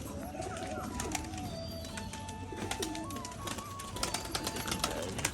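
A pigeon coos softly, close by, while being handled during a pigeon sale in Bangladesh, with other bird calls and handling rustles around it and faint talk in the background.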